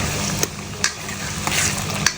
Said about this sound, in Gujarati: તો મિત્રો જો પનીર તળવા નાખી દીધું કઢાઈમાં.